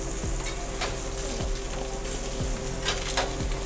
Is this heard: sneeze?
no